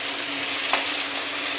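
Fish head with salt, turmeric and tomato fries in a pan, giving a steady broadband sizzle with no speech and a couple of brief louder crackles.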